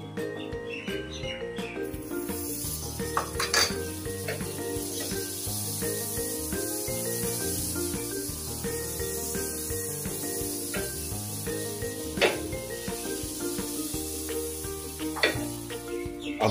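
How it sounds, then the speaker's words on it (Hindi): Amul butter sizzling on a hot iron tawa for a street-food bread omelette, a steady loud crackle and hiss with stirring scrapes, no talk. "तवा हमारा गर्म हो चुका है और हम इसमें डालेंगे बटर।"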